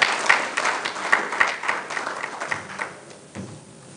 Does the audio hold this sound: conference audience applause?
yes